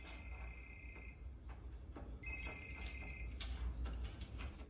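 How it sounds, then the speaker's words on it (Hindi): Telephone ringing in a Hindi-dubbed film: two bursts of a high electronic ring separated by a short pause, heard over a low background rumble with no talking. "अब नरदीन फोन कर रहा है।"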